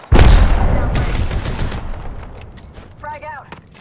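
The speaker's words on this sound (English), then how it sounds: "Enemies are shooting at me." Loud gunfire bursts in the Apex Legends battle game, a heavy boom at the start followed by a rumbling fusillade that fades, with brief voice-like chirps near the end.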